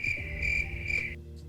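A cricket chirps close by at night in Fresno, California, in steady pulsed trills, loud and shrill, then stops abruptly, leaving quiet low background noise.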